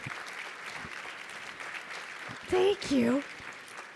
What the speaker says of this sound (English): I didn't have time for y'all to clap.